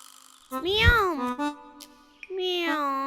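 A cat meows twice, a rising-and-falling cry followed by a second drawn-out meow, close and clear in a quiet room.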